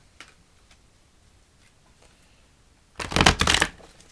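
A deck of cards being shuffled in a quick, loud riffling burst near the end, after a few faint taps and near silence.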